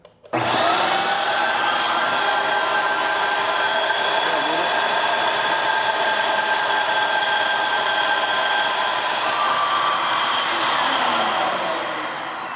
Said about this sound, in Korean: 청소기로 물을 빨아들일 줄이야